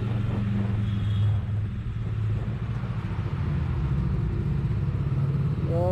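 Bajaj motorcycle exhaust note, a deep steady rumbling idle with a slight lift in revs, loud and close, with no talk over it.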